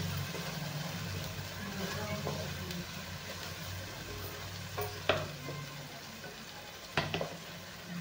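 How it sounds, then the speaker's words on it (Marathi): Finely ground masala fries in oil for a dhaba-style malai paneer, giving a soft steady sizzle with occasional sharp scrapes and clinks of a spoon stirring the pan, under a low background hum. "मसाला छान आपल्याला असा खरपूस भाजून घ्यायचा आहे।"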